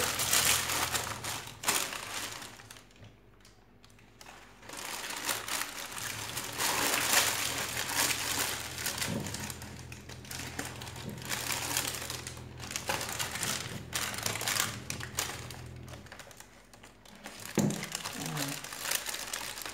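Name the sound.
paper crinkling while wrapping the tanjia pot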